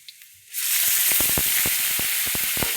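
Tomato pieces dropped into hot oil with mustard seeds and garlic burst into a loud, steady sizzle that starts abruptly and holds, with faint crackles and pops through it; no one speaks.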